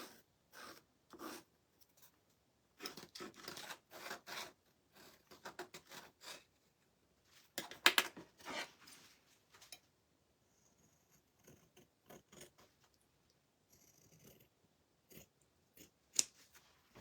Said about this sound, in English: All right, let me just cut this out.